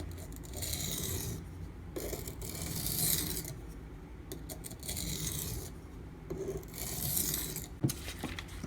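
A knife blade being drawn over a coarse, very aggressive Schrade Old Timer sharpening stone to cut off the burr, giving repeated rasping strokes in bursts, close and steady, with no talking.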